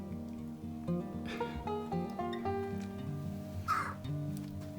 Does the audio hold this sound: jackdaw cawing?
yes